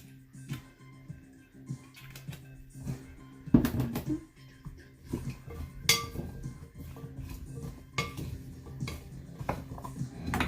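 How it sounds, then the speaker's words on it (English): Utensil scraping and clinking against a pan as oiled Brussels sprouts, fennel and other fall vegetables are stirred for roasting, with scattered clacks and scrapes at an irregular rhythm, fairly close and moderately loud. "I guess I'm not really tossing them, but stirring them so that everything gets covered in."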